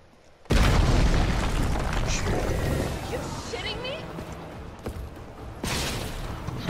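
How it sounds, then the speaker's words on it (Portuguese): A grenade blast in Resident Evil 3 Remake hits with a sudden loud boom that rolls into a long rumbling decay, then a second burst near the end, all under someone talking casually. "Soltar uma granada aqui, ele já cai direto."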